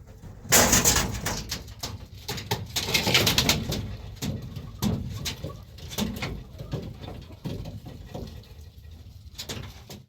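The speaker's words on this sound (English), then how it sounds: "These are all Homer pigeons." Homing pigeons cooing close by in a loft, a steady series of soft, throaty coos overlapping one another, with a few sharper rustles and thumps mixed in.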